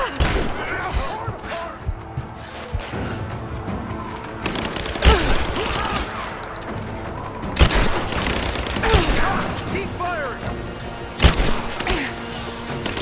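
Grenade explosions and gunfire during combat in Rise of the Tomb Raider, with repeated heavy thuds and bursts of shots spread over a busy, continuous battle, and voices calling out now and then.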